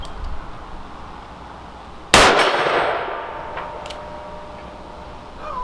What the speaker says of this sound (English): Let's try the gong again.